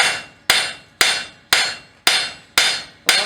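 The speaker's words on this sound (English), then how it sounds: "we're going to flip the hammer over and use the cross peen to direct the spread of our fishtail here" A forging hammer's cross peen hits hot steel six times at an even pace, spreading the fishtail end of a hand-forged skillet handle. Each blow is loud, sharp and ringing, with a short fading tail and no talk.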